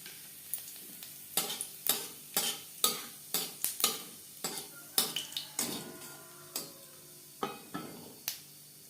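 A dried red chilli and whole cumin seeds crackle in oil in a kadai that was just used to fry snake gourd. Quiet sizzling carries through, punctuated by repeated sharp pops and scraping stir strokes, with no talking.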